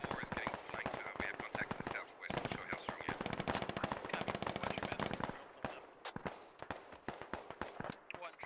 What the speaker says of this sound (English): Still some long-range fire happening here.